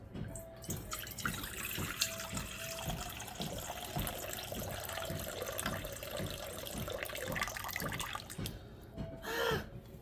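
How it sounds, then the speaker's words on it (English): Water pours steadily from a tap into a sourdough mixture, a continuous trickling splash lasting throughout with no talk. "Now I'm going to start off by putting the water in."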